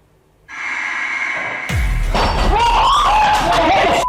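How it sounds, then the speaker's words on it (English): Glass falls off a fixture and breaks with a sudden loud crash, followed by scattered shattering and clinking while people react with gasps and exclaiming voices. "The glass fell off the thing."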